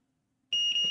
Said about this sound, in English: the multimeter is in the beep mode